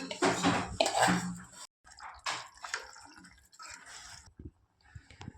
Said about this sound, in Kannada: ಈಗ ನೀರು ಆ್ಯಡ್ ಮಾಡ್ಕೊಣ್ರಿ.